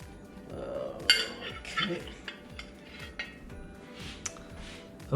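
A lid clanks against a metal pot as a homemade chicken biryani is opened, with several sharp metallic clinks and scrapes spread over a quiet kitchen background.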